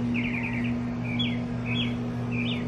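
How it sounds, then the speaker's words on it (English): Several short bursts of bird chirps repeat through the clip over a steady low hum, bright and moderately close. "I wanted to see if you guys could hear like the birds chirping"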